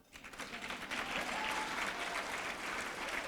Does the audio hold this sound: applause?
yes